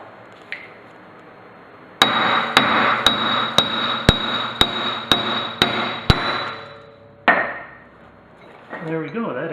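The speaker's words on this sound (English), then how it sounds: "then I'm going to start more or less hammering away at it" A broken rear wheel stud is hammered out of a 1990 Nissan 240SX S13, with eight loud ringing metallic blows at a steady beat, then a couple of scraping clanks.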